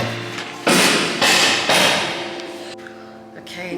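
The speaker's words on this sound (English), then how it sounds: "the chiseling work has been going on" A concrete wall being chiseled at a home construction site, heavy repeated impacts in bursts of broadband noise, close and loud over a low steady background hum.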